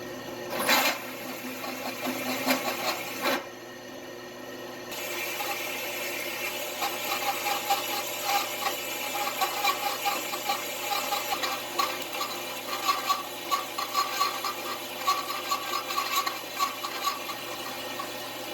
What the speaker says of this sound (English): I'm using a hole saw. We're going to use a 1 inch hole and go all the way through this metal here.